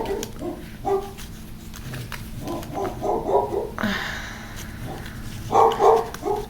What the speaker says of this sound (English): She's not doing the full barks. She's doing like back of the throat grumbling.